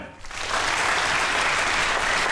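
An audience at a live comedy show claps steadily and loudly, a dense burst of applause that quickly builds and holds for a couple of seconds.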